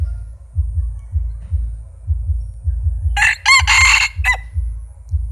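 A rooster crows loudly and close by in a few sharp bursts, over a steady low rhythmic thumping in the background.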